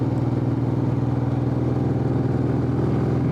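A motorcycle engine on a country road hums loud and steady at mid revs, a close, throbbing low drone without a break.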